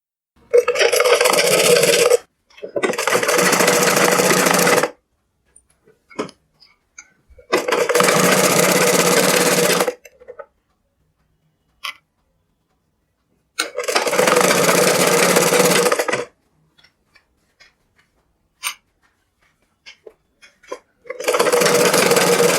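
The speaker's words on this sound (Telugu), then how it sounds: "ఇలా నీట్గా స్టిచ్ చేసుకోవాలి" A sewing machine stitches the folded hem of a petticoat in several loud bursts of steady whirring, separated by quiet pauses with faint handling clicks.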